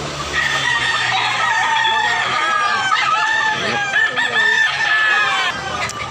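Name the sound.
roosters crowing at a chicken market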